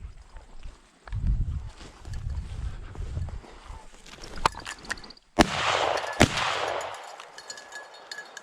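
Two sharp shotgun blasts ring out outdoors during a Minnesota pheasant hunt, separated by about a second, preceded by low wind and movement noise.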